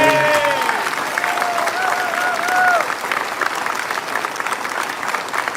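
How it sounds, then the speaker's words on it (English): A town hall audience in Santa Clara, California bursts into loud, sustained applause, many hands clapping close and steady, with voices and a few cheers mixed in, easing slightly partway through. "Let's give her a round of applause for her fight."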